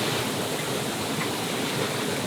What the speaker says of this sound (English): The waves are like a little confused.